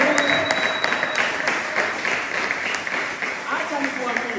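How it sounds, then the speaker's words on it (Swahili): A congregation at a youth prayer service claps for Jesus, dense continuous applause from a crowd with voices mixed in underneath. "Chapia Yesu makofi."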